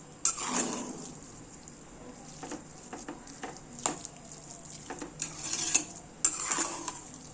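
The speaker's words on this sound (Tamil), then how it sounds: "நல்லா கிளறி விட்டாச்சு." Soft spoon scrapes and light clinks come from ghee-mixed, mashed sambar rice being stirred in a pot, with quiet irregular strokes close by and no voices.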